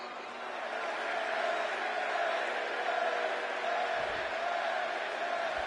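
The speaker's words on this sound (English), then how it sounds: "And the crowd chanting Eddie Guerrero" Arena crowd in the WWE 2K24 wrestling video game roars and chants steadily throughout, a dense continuous wash of voices at even loudness with no clear pauses.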